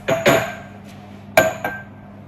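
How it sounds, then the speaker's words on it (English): Ice cubes clink and knock into a glass, a few sharp separate hits with ringing glassy tails, close and alone without talk. "I'm gonna get some ice and then pour myself a glass."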